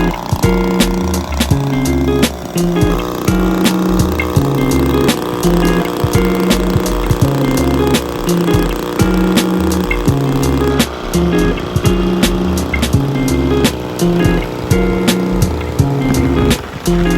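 An Ephil Power 38cc two-stroke engine with auto starter runs steadily during running-in, a close, loud, buzzing drone with rapid sputtering pulses that holds throughout without speech.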